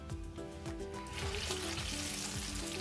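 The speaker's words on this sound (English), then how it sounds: "So I'll just keep adding my plantain to fry them in batches." Plantain slices fry in hot oil over medium heat, giving a close, continuous crackling sizzle that swells slightly as more pieces go in.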